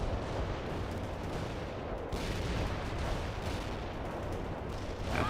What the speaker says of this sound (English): The light artillery barrage.